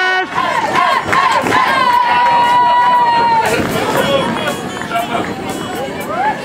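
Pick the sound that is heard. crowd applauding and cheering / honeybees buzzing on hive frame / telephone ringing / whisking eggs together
crowd applauding and cheering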